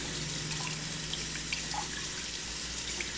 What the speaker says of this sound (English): I'm just going to rinse my knife off.